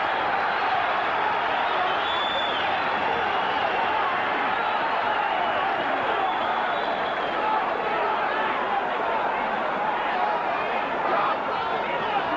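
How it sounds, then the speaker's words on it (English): A crowd at a boxing match between Rocky Kelly and Chris Sanigar cheers and roars in a continuous, dense wall of noise that holds steady from start to finish. "Just listen to this crowd."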